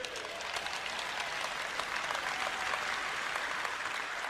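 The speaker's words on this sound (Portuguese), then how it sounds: "Eu não vou parar até você aplaudir" Audience applauding at a Christian ministry teaching event, dense steady clapping from a large crowd in a hall, continuous and moderately loud throughout.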